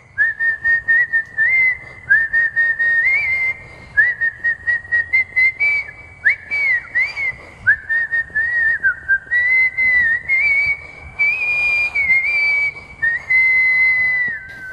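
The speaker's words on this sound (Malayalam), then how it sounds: "കുഞ്ഞുനാൾ മുതൽ മനസ്സിലടക്കി നിർത്തിയ ചൂളമടിപ്പാട്ട്" A woman performs a whistled song, a Guinness-recognised whistling performer from Kayamkulam, Kerala. The solo melodic whistling is clear and close, carried in long sustained phrases with short breaths between them, and no one speaks.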